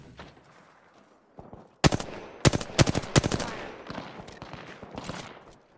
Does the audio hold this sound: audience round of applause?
no